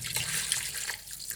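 Rancio wine pours steadily into a simmering lobster sauce for langouste à l'armoricaine, a continuous close liquid splashing and trickling with no talk over it.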